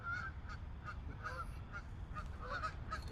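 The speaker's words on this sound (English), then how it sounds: "Here comes the geese" Geese honking over a pond, a series of short nasal honks repeating at an uneven pace, moderately distant over a steady low rumble of wind or water.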